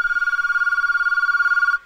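A telephone rings through an analog voice port during a ring cadence test: a single steady electronic ring burst lasting close to two seconds, loud and close, then stopping abruptly.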